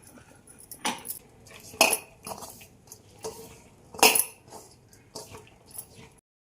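Spoon scraping and clinking against a vessel as ground coriander, cumin, sesame and pepper powder is mixed into cooled rice for temple-style pulihora, several sharp close clinks in an irregular rhythm with no talk.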